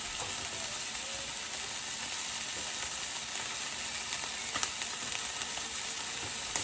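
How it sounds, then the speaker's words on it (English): Steady, dense sizzling of steak frying in a pan, continuous crackle and hiss throughout with occasional louder pops, close and fairly loud, no voices. "Tell me if y'all can hear me over the sizzling."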